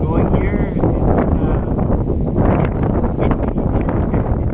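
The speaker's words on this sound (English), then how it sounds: "It's very, very windy, as a matter of fact." Strong, high winds buffet a lighthouse on the British Columbia coast, a continuous loud roar of gusts and microphone buffeting with rustling underneath, and someone talking through it.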